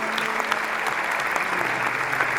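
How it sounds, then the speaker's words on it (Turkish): Concert audience at a choir performance applauding, a soft, even spread of clapping heard at some distance, steady throughout the short stretch. "Lütfen bir alkış rica ediyorum."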